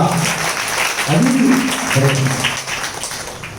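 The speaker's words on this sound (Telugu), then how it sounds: "చప్పట్లు గట్టిగా." A church congregation claps loudly and steadily throughout, and a voice talks over the applause.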